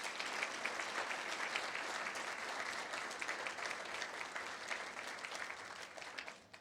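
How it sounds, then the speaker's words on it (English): Sustained applause from a large audience at an awards breakfast, steady and full for several seconds before tapering off slightly at the end. "please join me in congratulating all of those people with a big round of applause"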